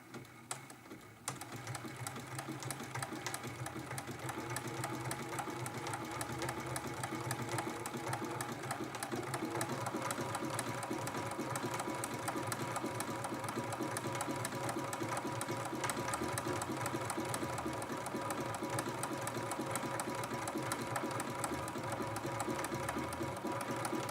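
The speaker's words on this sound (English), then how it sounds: "I'm going to stitch over that hand-drawn line for the top of the rim of the cup." Sewing machine steadily stitching a quilt-as-you-go block along a hand-drawn line, a continuous close, even mechanical chatter lasting over twenty seconds with no pauses.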